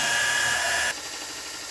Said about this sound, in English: I'm going to grind my way to that mark.